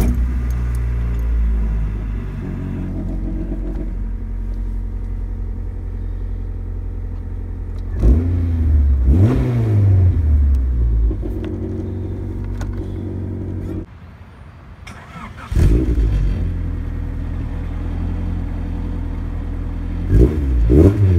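A rebuilt 1991 Honda Civic EF hatchback engine cranks to life and idles, then is revved several times with rising and falling sweeps, the engine close and loud, with a brief quiet dip midway.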